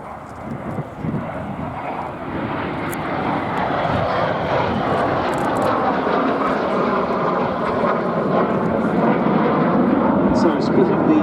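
A Jet Provost T5 jet trainer flies in an airshow formation display at Duxford, its engine roar sustained and fairly loud throughout, drifting in tone as the aircraft passes.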